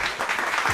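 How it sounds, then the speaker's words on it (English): Short burst of audience clapping, a dense patter of hands lasting under a second. "y'all clap it up for him"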